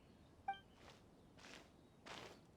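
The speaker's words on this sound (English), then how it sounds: "I hear footsteps." Three faint, soft footsteps scuff along slowly in the video game Acer Palmatum, spaced apart in an otherwise quiet scene after a brief chime.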